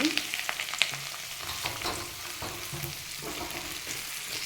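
Curry leaves frying in oil while being stirred, a soft sizzle with light scraping and a few clicks of the spoon, close but fairly quiet.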